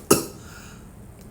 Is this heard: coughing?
yes